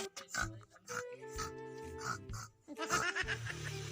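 A pig oinks in a run of short grunts at close range, with tonal background sound running beneath.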